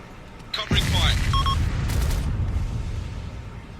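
Gunfire and explosions from the video game Arma 2, set in Takistan: a sharp burst then a sustained loud, dense roar of shooting and blasts with faint radio-like tones over it.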